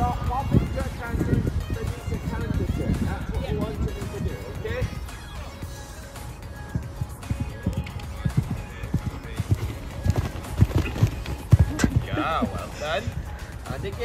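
A horse cantering through a jumping lesson, with rhythmic clip-clop hoofbeats on the arena surface, moderately close and continuous, while a voice talks over much of it.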